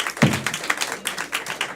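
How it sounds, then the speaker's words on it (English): Audience applause at a live game show event, a short, dense burst of many hands clapping together, fairly close and steady for under two seconds. "Clap for the effort, everyone."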